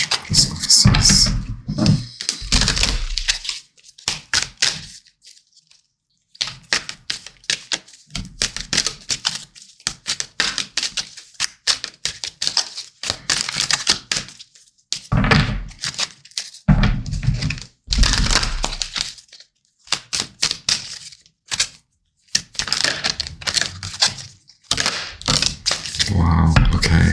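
Tarot cards from the Wild Mystic Tarot deck are shuffled and drawn in a close, busy run of crisp flicks, taps and riffles, pausing briefly now and then.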